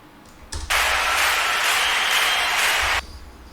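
A sampled festival crowd cheers in one dense, roaring wash of noise that swells abruptly, holds steady and loud for a couple of seconds, then cuts off sharply.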